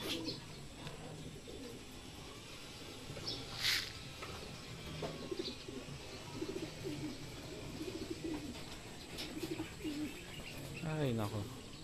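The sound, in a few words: pigeon cooing at club training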